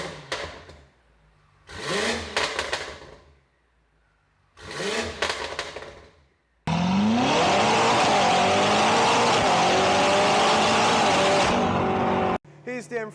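A twin-turbo 4.4-litre V8 in a stage 2 BMW F90 M5 fires up and revs in loud, close bursts, followed by a sustained hard roar as the car pulls away, then a sudden cut.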